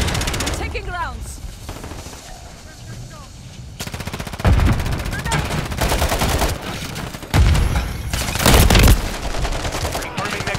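Multiplayer gunfire in Call of Duty: Modern Warfare III: rapid automatic bursts, some loud and close, others further off, with game voices and radio chatter mixed in.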